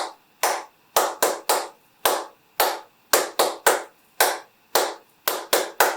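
Hands clap out the letters of a holiday song in a music class, sharp separate claps in small rhythmic groups with short pauses between, close and clear with no talk.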